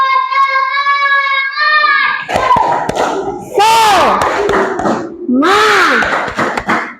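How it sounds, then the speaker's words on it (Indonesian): A classroom of students does a spirit clap chant (tepuk semangat), with a voice calling out first and then a loud group shout mixed with rhythmic claps and cheering. "Ayo kita tepuk semangat lagi."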